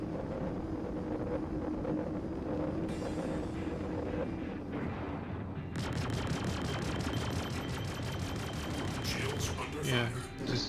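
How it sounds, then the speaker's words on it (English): A ship's turret gunner fires in the space game Star Citizen, with sustained rapid automatic bursts under a dense, roaring mix of engine and ambient game sound, and a voice talking over the action. "just turret gunner shot it down"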